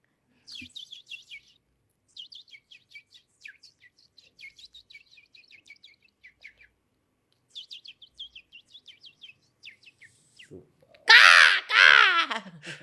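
A human voice imitates a koel and other birds: bursts of quick, high chirps and whistles sound close and clear between short silences, then a louder vocal outburst ends the sequence.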